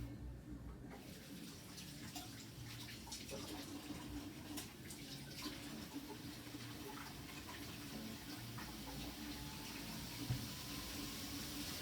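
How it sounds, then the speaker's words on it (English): Water running steadily from a kitchen tap while hands and apples are washed, a soft continuous hiss with faint splashing and occasional small clinks; no speech. "let's wash our hands and apple first"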